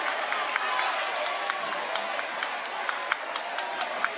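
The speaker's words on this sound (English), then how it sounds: "The crowd is into it." Basketball arena crowd at a boys' high school game cheering and clapping after a big block, a steady roar of voices with scattered claps, loud and sustained, with a commentator talking over it.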